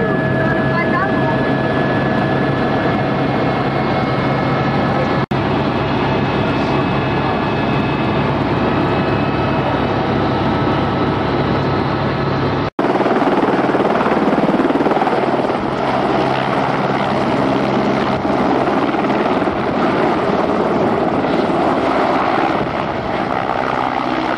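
An Esquilo helicopter flies over Rio de Janeiro near Rocinha, its loud, continuous rotor and turbine roar filling the cabin with broadband noise and a slight change partway through.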